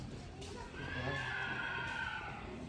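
A horse, one of several mares, gives a single drawn-out whinny in the middle of a short, fairly faint outdoor stretch with low background murmur.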